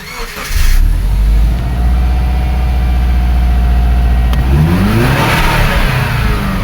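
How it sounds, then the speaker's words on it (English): A 2004 Subaru Forester with low power is revved in a rev up test, the engine catching with a loud burst, holding a steady near drone, then climbing sharply in pitch toward the end. "let's just do a rev up test"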